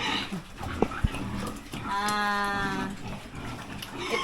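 Noisy pig pen with squeals and grunts from pigs, including one long harmonic squeal in the middle, over a steady rumble of background noise.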